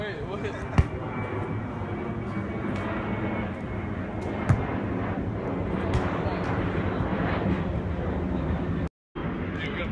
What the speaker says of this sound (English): look at this plane